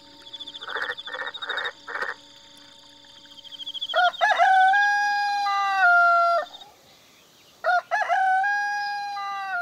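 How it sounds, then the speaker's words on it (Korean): Roosters crow from a chicken coop in the forest, long rising-and-falling calls repeated several times close by, with a few sharp clucking bursts early on and a faint steady whistle-like tone behind them. "숲속의 닭장."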